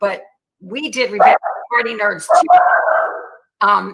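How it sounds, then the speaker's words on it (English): Household dogs bark and yelp in a home during a casual online chat, the brief barks mixed in with steady conversation that dominates the clip. "Oh, my dogs are going to start barking."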